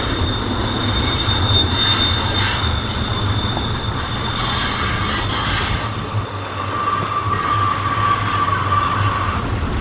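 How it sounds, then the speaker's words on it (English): A train rolls past close to the tracks, a loud continuous rumble and rattle of railcars with a high whine, heard steadily throughout with no talk over it. "you could hear the train going by as we're right near the train tracks"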